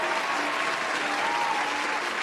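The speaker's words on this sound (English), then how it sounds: "Give her a round of applause for doing that." A crowd gives a short burst of steady, dense applause, loud and continuous throughout, with no voices over it.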